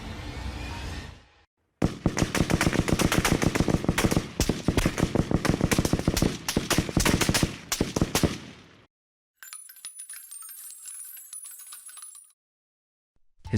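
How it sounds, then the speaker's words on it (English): Dozens of gunshots ring out on Voortrekker Road in Parow as gunmen open fire: a dense, rapid, overlapping volley of sharp cracks lasting several seconds, followed by a separate thinner, tinny burst of sound. "gunmen emerged and opened fire. Dozens of shots rang out."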